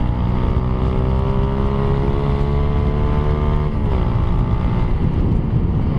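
Honda CRF150 motorcycle with a newly replaced clutch lining, its engine droning loud and close under strong wind rush as it rides, the pitch shifting steadily with throttle changes.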